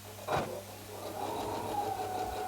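A sewing machine runs a short burst while stitching small quilt block pieces together, a close, steady mechanical whir that starts after a brief thump, with no voices.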